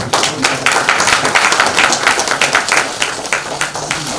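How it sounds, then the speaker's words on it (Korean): Audience applause welcoming lawmaker Kim Jung-ro at a Future United Party event, a dense, steady burst of many hands clapping close and loud throughout. "우리 김중로 의원님이 함께 하신 걸 환영하면서 박수 한번 부르시죠"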